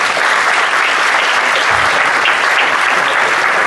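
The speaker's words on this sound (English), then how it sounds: "One more time, a round of applause, Frank T. Smith." Loud, dense audience applause follows a landscape photography talk at the B&H BILD 2023 event, a continuous roar of many hands clapping at close range with no pauses.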